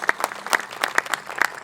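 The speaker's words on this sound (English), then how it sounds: "let's give a big round of applause for Mickey DiPaolo and his service to Burban" An outdoor Veterans Day ceremony crowd claps steadily and fairly loudly, with a dense patter of hands and no voices over it.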